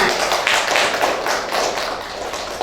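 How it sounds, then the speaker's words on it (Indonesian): A classroom of students claps together in a short burst, the hand claps landing in a loose rhythmic pattern at close range and moderately loud. "Tepuk tangan dulu buat semuanya"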